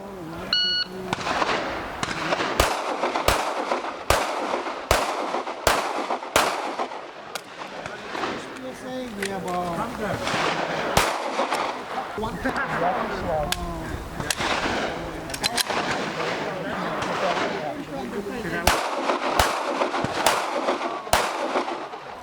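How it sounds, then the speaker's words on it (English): Pistol gunshots at an IPSC shooting match at Kokohead ring out in sharp, loud bursts, with several quick strings of shots spread across the stretch amid outdoor noise and some talk. "It felt good shooting."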